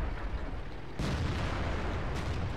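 A Jagdtiger tank cannon in World of Tanks fires one sharp, loud boom that rolls into a sustained rumble, followed by a second fainter blast moments later.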